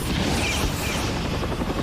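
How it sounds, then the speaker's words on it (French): Helicopter sound effect from a French-dubbed giant-spider disaster film: a dense, loud, continuous rotor roar with booming rumble filling the whole moment, no voices over it. "Regarde, les hélicoptères sont arrivés!"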